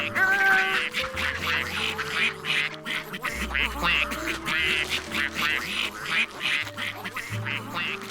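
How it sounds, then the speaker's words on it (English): Ducks quacking in a lively, overlapping chorus of repeated calls, close and fairly loud, over a soft musical background. "Ducks!"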